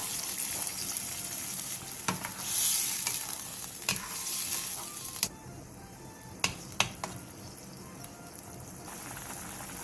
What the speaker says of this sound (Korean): 물 1컵 반, 진간장 1컵, 물엿 3분의 1컵을 넣고 센 불에서 끓여주세요.